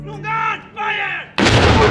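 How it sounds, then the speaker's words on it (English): Two stretches of raised, droning voices, then a loud blast from a historic saluting battery cannon in Valletta, Malta, with a broad, rumbling roar that fills the end. "the impressive saluting battery, a historic artillery platform firing its cannons"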